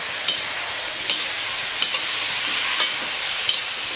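Tofu and sweet peppers stir-fried with sauce in a pan give a steady, close sizzle, broken by periodic scrapes and clicks of a spatula tossing the food, with no voices.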